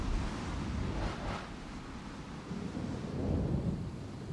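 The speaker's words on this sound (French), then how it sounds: "On entend des bruits sourds comme s'il y avait un gros orage." Deep, rolling thunder from a big storm rumbles continuously under a wash of storm noise, swelling slightly toward the end.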